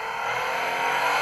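A Toyota GR Yaris engine revs at the start of a standing-quarter drag race, holding a loud, steady high-pitched drone that climbs slightly, close and alone without talk.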